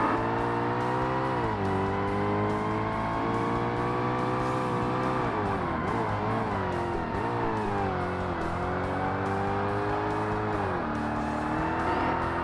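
A Ferrari race car in the 2005 Xbox game Forza Motorsport drones at a steady high-revving engine pitch, shifting and swelling as it accelerates, with occasional tire noise, loud and continuous throughout.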